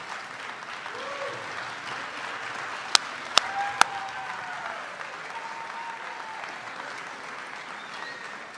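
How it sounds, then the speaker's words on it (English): Steady, dense applause from a large audience at an awards night honoring athletic staff, sustained evenly throughout with a few sharp louder claps standing out near the middle. "So if our athletic staff members would please stand and get a round of applause"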